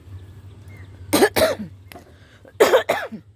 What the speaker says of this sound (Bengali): কাশিটা একদমই যাচ্ছে না